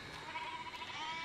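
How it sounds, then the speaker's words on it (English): A cartoon sheep bleats in a My Little Pony episode, a single drawn-out wavering bleat that is moderately loud and close and is heard alone. "Oh, look, sheep."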